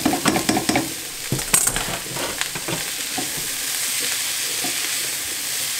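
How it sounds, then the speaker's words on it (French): Soy protein frying in a pan with golden onion and garlic: a few sharp scraping stirs up front, then a steady, moderate sizzle that carries on alone. "Je vais les faire dorer un tout petit peu"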